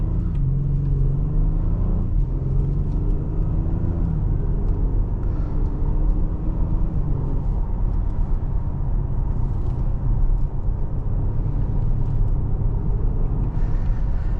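A 2022 Acura MDX Type S performance SUV pulls off and drives, its engine rumble steady and close from inside the cabin, with light revving swells over road noise throughout.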